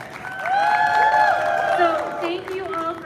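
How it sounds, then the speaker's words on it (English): A crowd at a Day of the Girl rally at the Connecticut State Capitol cheers and claps for the speakers, with high whooping voices riding over a steady bed of applause for the whole stretch. "can I just hear a round of applause for all of our amazing"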